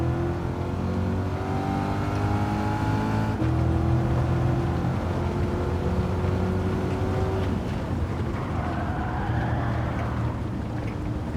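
A C8 Corvette's engine drones loud and continuous in the Gran Turismo 7 racing game, its pitch holding steady, then dropping and shifting as the car changes speed.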